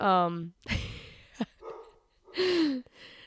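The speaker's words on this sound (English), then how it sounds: "Oh, don't mind the dog in the background." A dog barks and yelps in the background of an indoor podcast conversation, with a short call at the start and another a couple of seconds later, while people talk in between.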